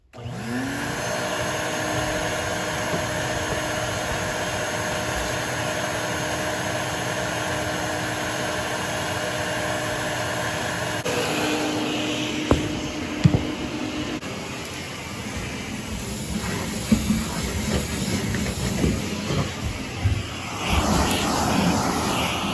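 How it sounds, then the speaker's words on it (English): A vacuum cleaner runs steadily and loudly inside an O'Day Daysailer sailing dinghy during spring clean-up, its drone shifting in tone partway through as the nozzle moves, with a few knocks and bumps near the end. "Okay, we're done vacuuming."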